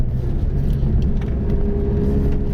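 An immaculate Mazda RX-7 runs on a race track, a steady loud engine drone with rumbling whir from inside the car, continuous over a short stretch of driving.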